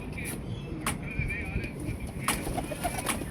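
Soft cooing of pigeons in a loft, faint and intermittent over a low background rumble, with brief voices nearby.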